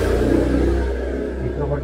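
Motorcycle engine running close by, a low, throaty rumble that swells briefly with a light rev and then settles, lasting under two seconds, with faint background voices.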